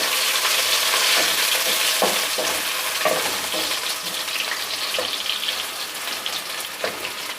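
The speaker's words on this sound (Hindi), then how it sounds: "प्याज ब्राउन हो चुका है, इसमें थोड़ा सा मैंने अदरक लहसुन कुटा हुआ डाल रही हूँ।" Crushed ginger and garlic dropped into hot oil with browned onion for a moong dal, giving a loud, steady sizzle and fry with faint stirring clicks throughout, no voices.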